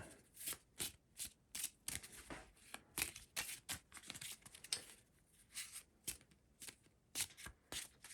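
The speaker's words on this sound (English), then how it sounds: "We've got the Soviet deck of cards, which I'm just going to shuffle." A deck of Soviet cards for a Pavlov's House board game is shuffled, giving quiet, close, repeated riffling and slapping bursts in an uneven rhythm.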